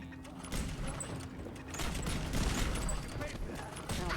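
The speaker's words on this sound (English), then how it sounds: "it's basically an assault rifle that takes a bit to start shooting" An assault rifle in Fallout 4 fires in sustained, rattling bursts with mechanical clatter, moderately loud under a busy game mix.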